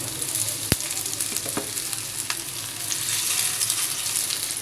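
Shrimp and dried-prawn fritters (bora) frying in hot oil, a steady close sizzle with faint stirring and a sharp clink near the start, no voices.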